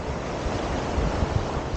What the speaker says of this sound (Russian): Вот, такой вот океан.